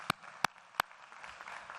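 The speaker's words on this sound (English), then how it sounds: "give these folks a round of applause for getting you to where you got to today" At a university winter commencement, three sharp, close hand claps stand out over a soft, diffuse background of distant applause that thins out toward the end.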